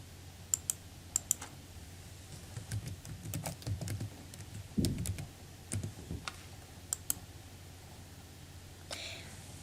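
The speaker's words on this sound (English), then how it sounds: "So I will type in my email address and my password right here." Fingers tap out an email address and password on a computer keyboard in quiet, uneven bursts of clicks with brief pauses, close and soft, no talking.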